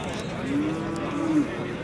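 A cow at a livestock market lets out one drawn-out moo over a busy, crowded background.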